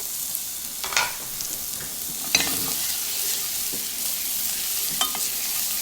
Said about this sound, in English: Butter's melted, now I'm gonna go down with the shallots